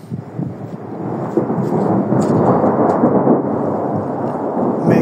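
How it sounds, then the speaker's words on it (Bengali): Thunder rumbles loudly and continuously during a windy night snowfall with light rain in South Korea, a deep rolling roar that swells and holds with no voices. "মেঘের গর্জন হচ্ছে"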